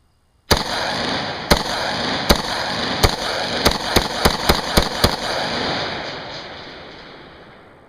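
Tracer rounds fired at night at an outdoor Texas boot camp: about ten sharp, loud shots in an uneven rhythm, quickening toward the end, then a long, fading rumble of echo with no voices.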